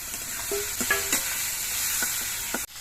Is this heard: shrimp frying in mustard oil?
yes